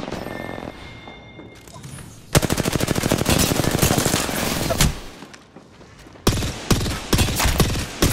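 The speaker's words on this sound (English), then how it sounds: "The enemies are shooting at me." Enemy gunfire in the video game Apex Legends comes as loud, close bursts of rapid automatic shots, with two long volleys broken by a brief lull and a quieter stretch of scattered noise.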